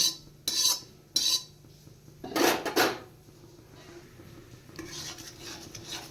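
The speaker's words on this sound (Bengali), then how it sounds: "এবার আমি গুড় পাক দিয়ে নেব এখানে" Jaggery is stirred and cooked in a pan for rice-flour pitha, with several sharp metallic scrapes and clanks of a spoon against the pan, then a softer rubbing stir.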